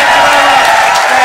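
Theatre audience at a live comedy podcast recording in Leicester Square breaks into a spontaneous round of applause, a loud dense wash of clapping that fills the whole moment without letup.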